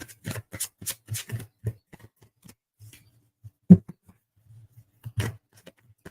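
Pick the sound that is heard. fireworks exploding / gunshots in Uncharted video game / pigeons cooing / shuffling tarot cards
shuffling tarot cards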